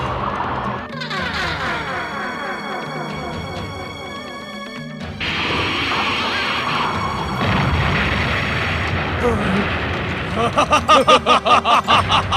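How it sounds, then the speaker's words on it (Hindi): Explosions and crashing blasts in a Hindu mythological TV battle scene, repeated loud booms and smashes layered with dramatic music, ending in rapid pulsing bursts. "शनिदेव ने भी अपनी विध्वंसक शक्तियों से मधु कैटभ को विस्फोटक अस्त्र शस्त्र प्रदान करने प्रारंभ कर दिए।"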